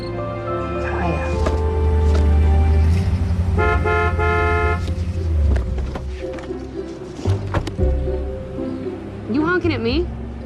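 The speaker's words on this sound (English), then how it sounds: "You honking at me?" A car horn toots several times amid traffic and engine rumble, loud and close, with people talking in between the honks.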